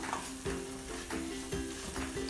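Drumstick leaves sauté in a pan for a lentil curry with sambar powder, giving a soft, close sizzle broken by rhythmic stirring scrapes about every half second.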